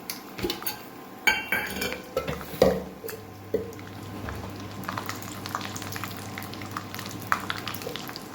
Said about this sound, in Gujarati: એમાં કાજુ અને બદામ કટ કર્યા પહેલાં આપણે તળી લઈશું